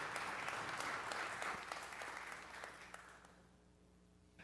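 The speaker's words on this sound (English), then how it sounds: "let's give her a round of applause" Applause at a city council meeting, a steady round of clapping from the chamber that fades away toward the end, fairly quiet and distant.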